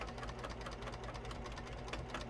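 A sewing machine stitches car trash cans inside a bus on the road, giving a steady, quiet, close mechanical whir with a fast rhythmic knock.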